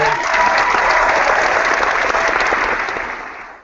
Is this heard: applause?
yes